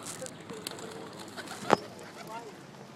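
Pigeons outdoors coo softly in the background amid low ambient noise, with one sharp brief click or tap standing out midway; light chatter may be present.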